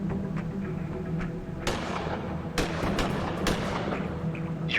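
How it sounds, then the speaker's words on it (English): Sharp gunshots fired at a practice target in the adventure game Gemini Rue, a few distinct cracks spaced a second or so apart over a steady low background hum. "Try shooting the target again after reloading."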